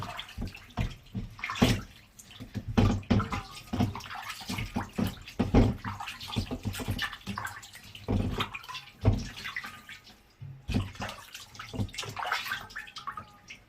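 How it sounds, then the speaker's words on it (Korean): Thawed otoro tuna rinsed under running water, with steady splashing and sloshing as the fish is rubbed clean, close and continuous with no talk. "이렇게 싹 깨끗하게 이물질 있는 걸 다시 한번 제거해 주신다는 생각으로 깨끗하게 세척을 해드립니다"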